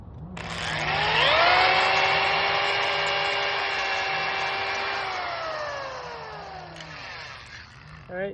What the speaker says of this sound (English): drilled the pilot hole first